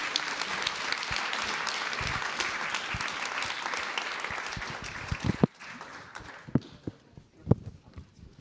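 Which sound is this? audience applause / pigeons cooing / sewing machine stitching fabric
audience applause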